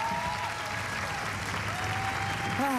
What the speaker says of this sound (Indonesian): Sekali lagi beri tepuk tangan buat mereka.